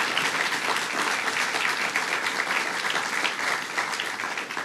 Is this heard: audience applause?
yes